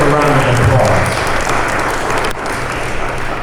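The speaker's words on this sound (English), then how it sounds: "That does deserve a round of applause." An audience applauds at a Hall of Fame ceremony, a dense steady clatter of many hands that eases slightly toward the end, with voices talking over it.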